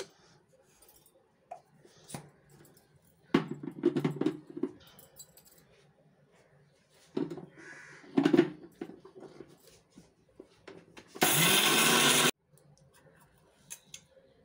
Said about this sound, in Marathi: आता हे आपण वाटून घेऊया, मिक्सरला लावून घेऊया.